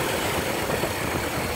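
A 1956 Pontiac Star Chief engine idles steadily and evenly, a dense continuous rumble with no talk over it.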